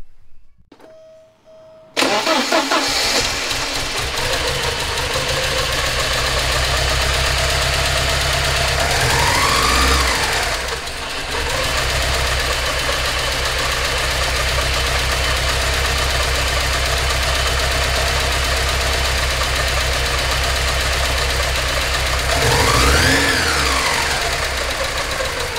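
A Porsche 944 engine cranks briefly, then fires and settles into a loud, rough, steady idle with a couple of rising-and-falling revs, heard close after a head gasket replacement with suspect injectors.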